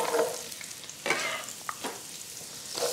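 Carrots, onion and celery browning in a skillet in leftover fat, a soft sizzle broken by a few sharp stirring scrapes and clatters, close and fairly quiet, with no talk.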